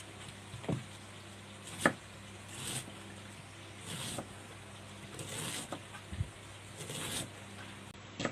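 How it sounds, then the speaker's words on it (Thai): A knife chopping beans finely on a board in a home kitchen, with a few distinct cuts spaced out over a quiet, faintly noisy background and no talking. "ยายหั่นถั่วนะคะทุกท่าน"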